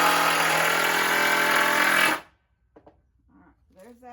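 A power drill drives screws into a gate, a loud steady whirring run that cuts off abruptly, followed by quiet clicks and faint handling noises.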